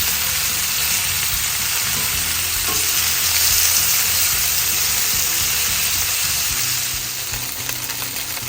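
Chicken wings pan-searing in a hot pan give a steady, close sizzle and crackle of frying fat that runs unbroken throughout, with no talking.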